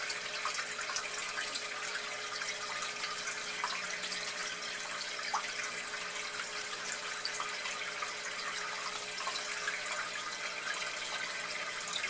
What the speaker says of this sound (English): It'll be a little quieter without the fountains